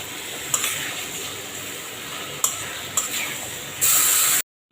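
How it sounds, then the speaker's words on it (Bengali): Pieces of rohu fish fry and get turned in a pan, giving a steady close sizzling hiss broken by a few sharp utensil clicks, with a louder burst of spitting just before it cuts off. "এর মধ্যে মাছগুলি ছেড়ে দেব। মাছগুলি ভালো করে কষায় নেব।"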